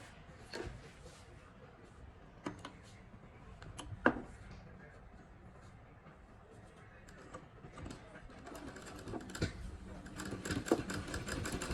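A sewing machine runs in short bursts while stitching a pintuck seam on a suit, its faint mechanical whir set low under a quiet room, with a few sharp clicks between runs.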